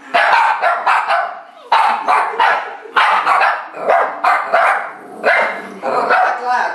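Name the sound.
dog barking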